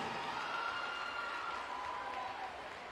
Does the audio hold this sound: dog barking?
no